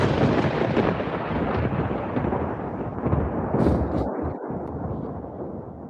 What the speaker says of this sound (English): Got the thunder settle in a bit.